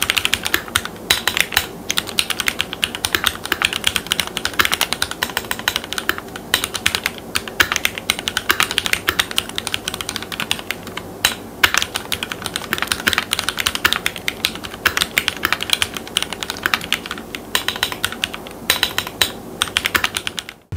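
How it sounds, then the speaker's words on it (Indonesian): Typing on a Keychron Q1 Knob Version mechanical keyboard fitted with red linear switches: a steady, continuous stream of close, crisp keystrokes with uneven rhythm, running alone without talk throughout. "gue pakai Keychron Q1 Knob Version dengan red linear switch."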